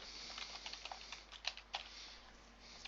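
Keys clatter on a computer keyboard in a quick, faint run of close taps, a few slightly louder strokes standing out over a soft steady hum.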